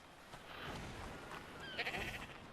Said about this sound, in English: Knew I could hear a sheep.